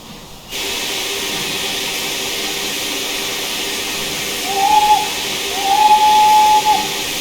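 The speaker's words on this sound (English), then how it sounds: "Whistle sounds pretty decent. It is not a reused whistle, so that's quite nice." A steam locomotive whistle in Train Simulator Classic on the Stainmore, Shap and Eden Valley route, two tonal blasts, a short one then a longer one, sounding over a steady loud hiss of steam.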